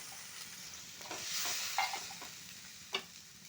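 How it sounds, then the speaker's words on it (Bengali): Chicken muitha dumplings in spiced masala with added water bubble and hiss softly in a pot, a quiet steady simmer with a few sharper stirring or splashing clicks near the end. "জল দিয়ে মুইঠাগুলো 10 মিনিট ফোটাতে দেবো।"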